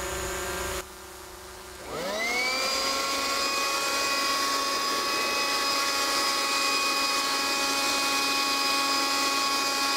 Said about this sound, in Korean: 다음은 전기 송풍기입니다